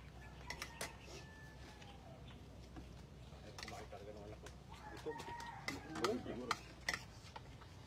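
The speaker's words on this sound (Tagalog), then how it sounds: "May manok. May manok eh." A rooster clucks and crows faintly in the distance in a rural Philippine province, partly buried under steady low background noise and soft clinks.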